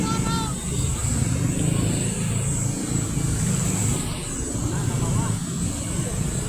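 Sedans and other low cars creep slowly through flood water on Jalan Raya Banjaran, a steady engine rumble and wash of water with a faint murmur of voices underneath.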